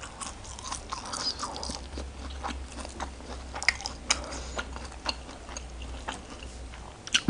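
Close crunchy chewing of raw bitter melon and mixed local vegetables served with a bitter spicy minced meat salad, with soft irregular bites and crunches running throughout, no talking.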